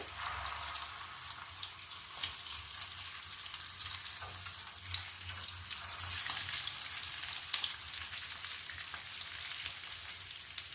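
Potato and chana dal kebabs shallow-frying in oil in a pan, giving a steady, close, even crackling sizzle throughout with no talk.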